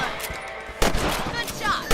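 A rifle gunshot in the video game Red Dead Redemption, a loud sharp crack midway followed by a rolling echo over a low outdoor ambience.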